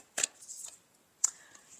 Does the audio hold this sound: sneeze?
no